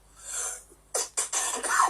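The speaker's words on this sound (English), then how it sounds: "Excuse me, I got a bad cough." A couple of sharp, close coughs in quick succession, followed by a rough throat-clearing rasp.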